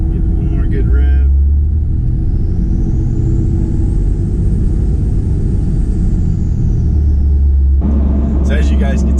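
A 2007 Cummins 5.9 diesel engine with an S&B intake revs loudly up close, its steady rumble joined by a high, rising then falling turbo whistle across the middle, with voices talking briefly before and after.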